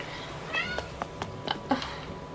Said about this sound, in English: I don't know if you can hear her meowing in the background.